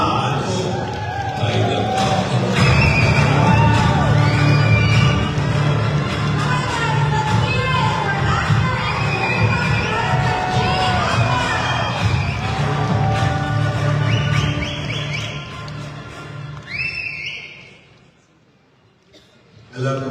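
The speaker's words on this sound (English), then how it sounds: "it's time to welcome always handsome and smart and young and a charismatic round of applause" An audience welcoming actor-director Jay Akash at a dance show night in Canada, a sustained dense roar of applause and cheering from a large crowd, fading toward the end.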